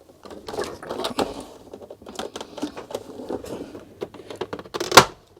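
Plastic clips on a small 9-inch monitor casing are pressed firmly into place, giving a run of quick close clicks and rattles that ends in one sharp loud snap.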